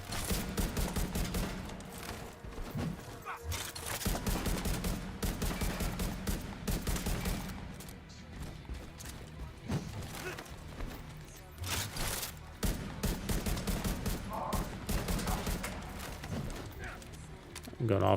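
Rifle shots from a Division 2 build fire in quick repeated strings, near and sharp, in steady rhythmic bursts while someone talks over the shooting.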